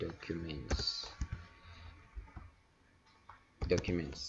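A few key presses click on a computer keyboard as a command is typed into a command-line interface, quiet and sparse between stretches of a nearby voice talking.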